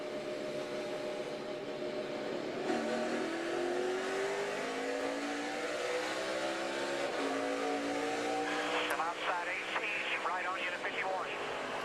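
NASCAR stock cars roaring off at the start of the 2012 Brickyard 250, engines revving and rising in pitch as they pass, with commentators talking over the noise and a burst of crowd or radio chatter near the end.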